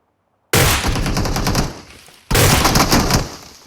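Two long bursts of rapid automatic gunfire from PUBG Mobile, loud and close, the first lasting nearly two seconds and the second following after a brief gap.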